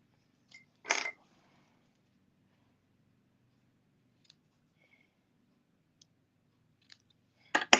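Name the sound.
trimming ribbon ends off a card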